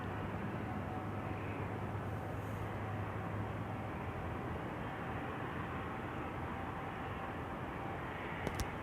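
Passenger airliner taking off from runway 09 at Amsterdam Schiphol, bound for Milan: a steady, continuous jet-engine roar, fairly distant and unchanging throughout, with no one talking.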